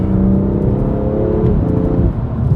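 A BMW F87 M2 Competition with full bolt-on modifications accelerating hard after a paddle upshift, its engine droning loudly and climbing in pitch from inside the cabin, with a brief dip at the shift.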